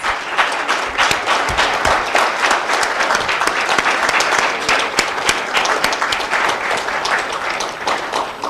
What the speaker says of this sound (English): Je voudrais des applaudissements pour cette équipe